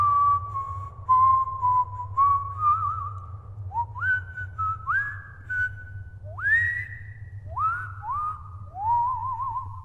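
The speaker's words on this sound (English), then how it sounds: "I don't think any other show could have possibly made the Globetrotters whistling as sad as this does." Harlem Globetrotters whistling a slow, mournful tune in a Futurama cartoon episode, a clear melodic whistle of gliding, sustained notes over a low background hum.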